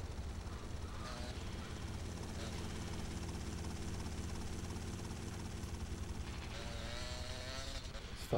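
A helicopter's rotor and engine drone continuously at steady volume in Grand Theft Auto: Liberty City Stories, with a faint shift in pitch near the end.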